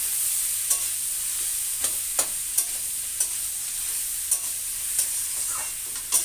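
Boiled taro and potato being stir-fried in a pan, a constant hiss of frying broken by regular sharp clicks of a spatula against the metal, close and fairly loud.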